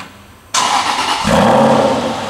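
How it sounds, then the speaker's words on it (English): An Aston Martin Vantage Roadster starts up with its exhaust valve closed: a sudden loud crank and catch, then a rising bark that settles into a strong, close idle. "Tom's going to be pulling out the Vantage Roadster. The car at the moment has the valve actually closed. You can change this. Let's have a start up"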